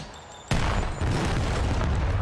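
In a Call of Duty tournament grand final between OpTic Texas and LA Thieves, a heavy grenade blast hits suddenly and is followed by a sustained, dense rumble of explosions.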